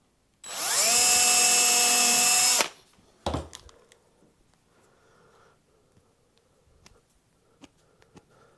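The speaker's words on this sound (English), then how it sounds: "I'm actually putting quite a small pilot hole" A power drill boring a small pilot hole in a Telecaster guitar body, a loud two-second whine that stops abruptly, then a knock and faint handling clicks and ticks.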